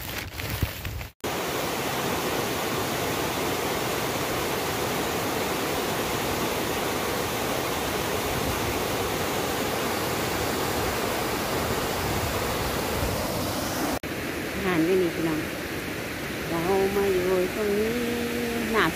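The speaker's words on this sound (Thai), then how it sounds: "เสียงน้ำตกโคตรแรงเราไม่ได้ยินเลย" Loud, steady broadband roar of a powerful waterfall, dense and unbroken for most of the clip, with voices talking faintly over it near the end.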